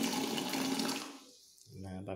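Hot water gushes steadily from the tap of an Ariston water heater, a loud broadband rush that drops away and then briefly returns near the end, with no talk.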